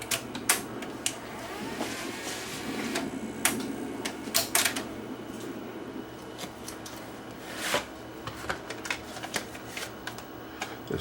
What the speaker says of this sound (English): Let's try a Beta 1 tape in it now.